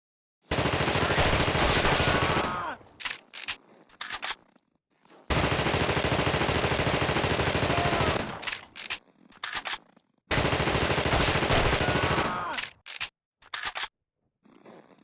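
Gunfire from The Thing: Remastered video game blasts in three long, loud automatic bursts, each followed by short scattered shots and brief silences.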